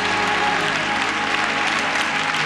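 A church congregation at a revival service in Memphis breaks into sustained applause, dense, loud and steady clapping from a crowd, with no pause for the full stretch.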